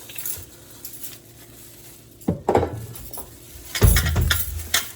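A large foil-lined cookie sheet is handled with scattered metallic clanks and scrapes, a couple of louder bangs midway and near the end, plus soft rustling of foil in between.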